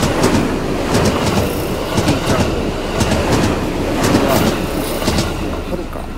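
A Haruka express train rumbles past close by, wheels clattering steadily on the rails with a continuous loud roar and occasional metallic ticks.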